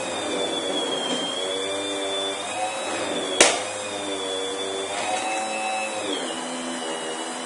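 A small DC motor whines steadily with a high-pitched tone, its pitch sagging and recovering as it strains while its shaft is held by hand, with a brief sharp click midway.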